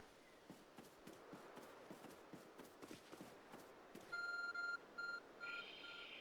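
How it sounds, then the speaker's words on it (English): In the video game Pokémon Legends Arceus, a glowing phone object beeps in several bright, evenly pitched electronic pulses after a run of soft footsteps, clear and fairly loud with no talking. "There's a glowing, beeping object over there."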